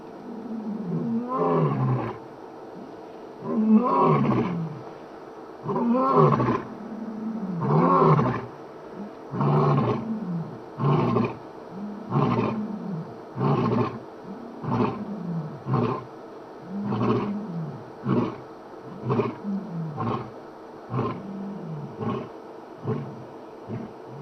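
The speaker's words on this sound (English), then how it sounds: "Oh, the other one's roaring." A male lion roars in the wild, a long series of deep, rhythmic grunting roars, loud and close, building and repeating steadily for over twenty seconds with no talk.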